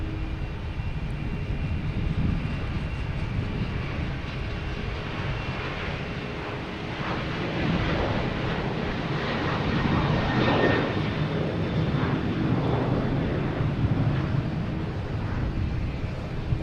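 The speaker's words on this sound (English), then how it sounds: "Here's United Airlines heading to Chicago, 737-900." A United Airlines Boeing 737-900 jet departs Boston Logan for Chicago, its engines building a heavy, rolling roar that swells and surges in waves, loud and close, with no talking.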